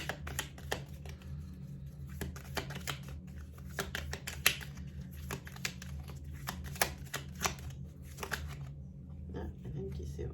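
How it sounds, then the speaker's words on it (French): Oracle cards shuffled to draw another card during a tarot-style reading: a steady run of crisp riffling clicks and flicks over about ten seconds, close and moderately quiet, with a low room hum beneath. "On va essayer d'obtenir une autre carte."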